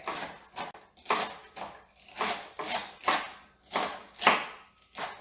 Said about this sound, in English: And do some more chopping over celery.